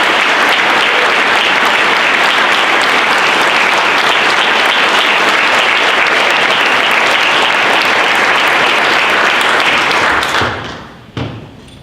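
A large audience at a Salute to the Armed Forces event applauds a soldier with loud, dense, sustained clapping that carries on evenly for about ten seconds before quickly dying away to a few scattered claps.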